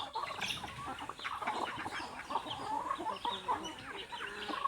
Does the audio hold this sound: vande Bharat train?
no